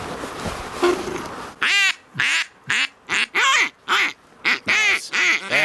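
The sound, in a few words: duck call blown to imitate duck quacks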